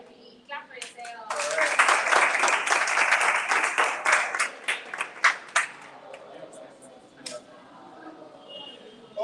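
An audience at a gallery unveiling claps briskly together, a dense burst that thins into scattered claps as voices talk over and after it.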